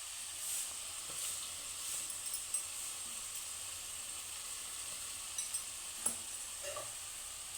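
Turmeric powder and salt sizzling in hot oil in a pan while cooking masala chitranna, a steady soft hiss with a few faint stirring scrapes, fairly quiet and continuous without talk.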